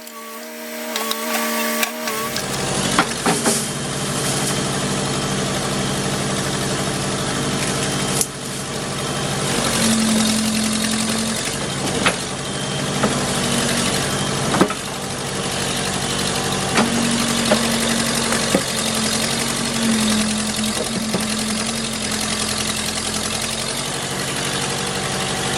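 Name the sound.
Case 580B backhoe engine idling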